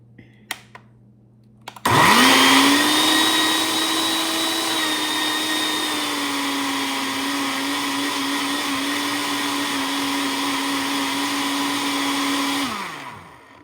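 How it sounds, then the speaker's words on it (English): A blender whirs through crêpe batter for buttery nutmeg crêpes, starting abruptly with a loud, steady motor whine that holds at an even pitch for about ten seconds, then winds down as it is switched off. "So here's our blender. We have it connected and I'm going to blend this."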